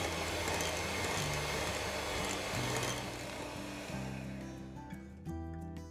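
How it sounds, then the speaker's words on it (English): Butter and castor sugar are creamed for cake batter with an electric whisk, a continuous loud whirring drone with shifting pitch that eases slightly toward the end. "I'm going to whisk it for at least 5 minutes."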